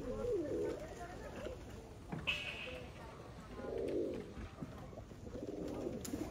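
Pigeons coo softly and somewhat distantly in a few separate bursts, with a brief chirp in between and quiet background noise.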